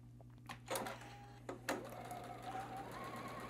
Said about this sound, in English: now we're just going to go right back to the sewing machine